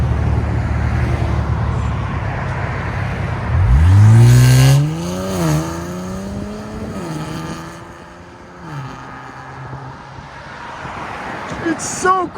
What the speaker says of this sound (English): Let's see how it sounds with the valves closed.